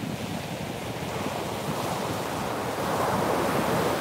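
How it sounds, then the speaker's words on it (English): Ocean surf and strong wind at the shore form a dense, continuous roar, with wind buffeting the microphone and the wash building slightly louder toward the end, no voices. "It is very windy down here this morning."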